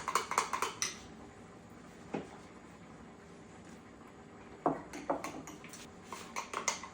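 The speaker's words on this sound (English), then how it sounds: "Okay, I'm still stirring this flour." A spoon stirs flour in a pot for beef gravy, giving quick, light metallic clinks and scrapes in short bursts at the start and again near the end, faint and close, with quiet gaps between.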